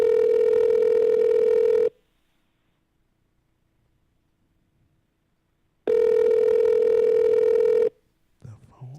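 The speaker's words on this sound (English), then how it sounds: "The phone is ringing." Telephone ringback on an outgoing call-back: two long, steady, loud tones of about two seconds each, separated by four seconds of silence, then a brief bit of background noise.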